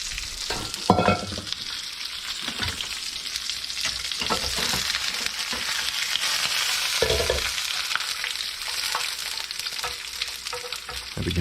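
Bacon frying in its own rendered fat for a BLT, a loud, close, constant sizzle broken by occasional utensil knocks and scrapes, with no voices.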